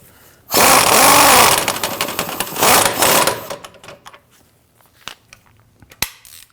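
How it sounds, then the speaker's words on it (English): A power tool snugs down a rear shock bolt on a 2009–2017 Volvo XC60, with a loud buzzing burst of about three seconds followed by scattered clicks and clanks. "Once you have that bolt started, we want to go ahead and snug that down."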